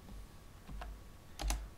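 A few quiet keystrokes on a computer keyboard as a command is typed on a Windows 10 PC, in short soft clusters of clicks against a faint background hum.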